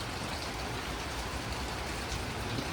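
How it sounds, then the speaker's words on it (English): Steady rain falls outside a shop, a constant, even hiss of water that holds at moderate volume for a few seconds, with no voices. "Pretty rainy day at the shop."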